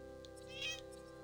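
A cat meows once in the Tales of Arise video game, a short bright mid-pitched call standing out over steady game music and ambience.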